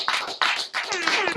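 Brief scattered clapping for a podcast guest, a few quick bursts close by, mixed with voices and laughter in the room.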